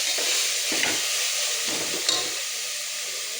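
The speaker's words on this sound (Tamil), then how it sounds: "அப்புறம் நல்லா மிக்ஸ் பண்ணிக்கணும்." Chilli powder is stirred into a frying pan with coriander leaves, with a steady sizzle and scraping stir strokes throughout, fairly close and with no talk.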